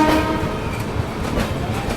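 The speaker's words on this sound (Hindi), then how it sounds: "यहाँ पर अभी कोई ट्रेन खड़ी है, नाम तो इस अंधेरे में, ओके, देहरादून एक्सप्रेस" Dehradun Express standing at a night-time railway station, a loud steady wash of rail yard noise with engine rumble and a brief horn-like tone at the start.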